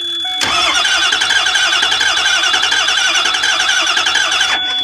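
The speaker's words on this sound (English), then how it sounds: "I don't think those have to be on to get it to at least sound like it wants to crank" A Ford E350 bus with a 6.0 diesel engine cranks on its starter, a loud, steady, rapid mechanical whir that holds for about four seconds and then cuts off abruptly, with no voices.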